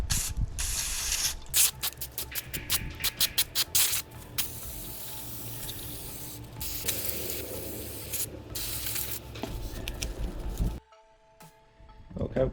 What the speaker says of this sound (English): Spray some brake cleaner on this and it'll just kind of melt it off.